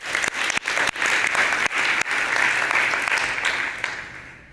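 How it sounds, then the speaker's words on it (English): Audience applauding at a developer summit on ad filtering, a dense, steady burst of many hands clapping that holds strong for about four seconds before tapering off, with no voices over it. "Give a big round of applause for Ben,"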